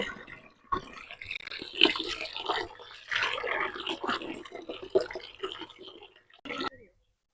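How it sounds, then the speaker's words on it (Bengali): An ash gourd washed with water at a tube well outdoors, splashing and trickling close up in uneven bursts while a person talks over it. "এবার কুমড়োটা আমরা ভালো করে ধুয়ে নিব"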